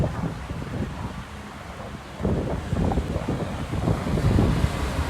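Strong wind buffets a rooftop during a thunderstorm with light rain, a loud, continuous rush and rumble of gusts battering the microphone.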